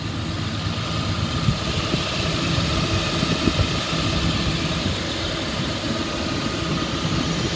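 A 2003 Dodge Dakota with a 3.9-liter V6 and a rebuilt title, formerly a police undercover truck, idles smoothly with a steady, even engine hum and rumble, close and constant, with no voices.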